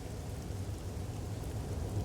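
Steady rain falls in a video game cutscene from Master Detective Archives: Rain Code, a constant low, even wash of rainfall with a faint rumbling undertone and no voices.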